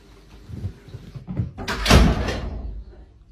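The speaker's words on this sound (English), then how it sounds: "Kanji, do you mind closing the door for me?" A single solid door swings shut with a heavy thud and a short rattle. It rises out of quieter indoor shuffling and stands alone, close and fairly loud, with no speech.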